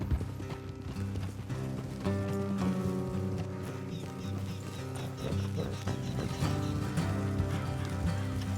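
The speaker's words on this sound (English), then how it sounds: "Let's leave the horses here and go the rest on foot." Horses in a video game clip-clop along at a brisk pace, a continuous, fairly faint stream of hoofbeats heard throughout, with no talk.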